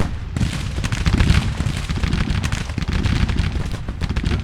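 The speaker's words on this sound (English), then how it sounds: "There they go, firing now." A Civil War battle in the strategy game Grand Tactician: The Civil War, with loud, continuous rattling musket fire and booming artillery layered into a dense, unbroken roar.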